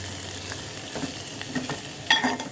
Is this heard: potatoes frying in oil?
yes